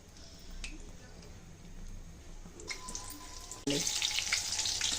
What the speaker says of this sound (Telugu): ఇంకో పక్కకి టర్న్ చేసి డీప్ ఫ్రై చేసుకోవాలి